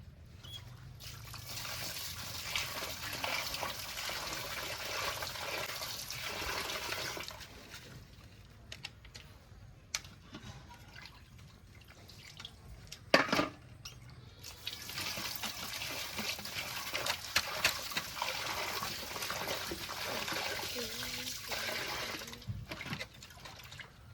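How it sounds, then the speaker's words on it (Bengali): Cut khoira fish are washed in water: close splashing, sloshing and trickling come in uneven bursts, with a quieter lull in the middle and no talking. "মাছগুলো এবার ভালো করে ধুয়ে নেবো"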